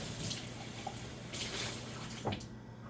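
Tap water runs and splashes into an empty can being rinsed out in a home kitchen sink, a steady broadband wash with a few brief drips and clunks, close and moderately loud with no talking.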